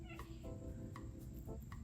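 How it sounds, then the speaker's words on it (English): A house cat walking into a room during bead crafting, meowing: several short, clear, close meows in quick succession against a quiet indoor background. "my cat just walked in, so he's probably going to jump on my lap"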